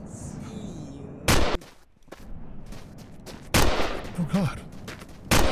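Three loud, sharp gunshots ring out in The Long Drive game, spaced a couple of seconds apart as the magazine runs empty, with a voice exclaiming between them.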